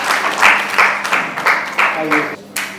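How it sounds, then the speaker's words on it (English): An audience at a Mother's Day celebration for a mothers' milk bank applauds in a rhythmic burst of claps, pulsing steadily for a few seconds while a voice speaks over it. "Great round of applause for"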